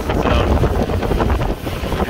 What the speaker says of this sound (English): As the wind keeps blowing us past.